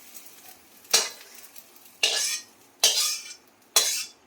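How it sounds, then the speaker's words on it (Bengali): Beaten egg frying in a pan to make a crispy lacy egg garnish, with four separate bursts of sizzling and scraping as it is stirred, each fading quickly over a quiet background. "ডিমটাকে ঝুড়ি ঝুড়ি করে ভালো করে ভেজে নিই।"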